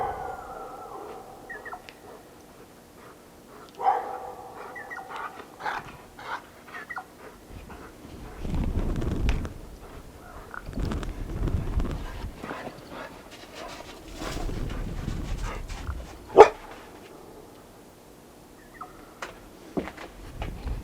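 A dog in a snowy wilderness setting barks and yelps intermittently while chasing crows, with bursts of panting and scuffling at a moderate distance and occasional louder yips.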